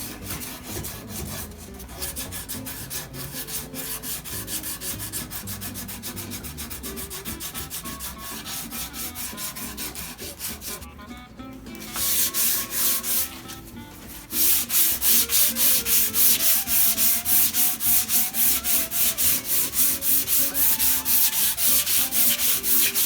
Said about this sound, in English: Graduated to a dowel with sandpaper wrapped around it. 150 grit.